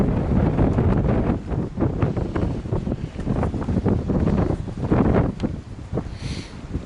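Strong wind gusts buffet the microphone beside a fast-flowing river on a trail, a loud continuous roar with irregular surges, heard alone without any talking.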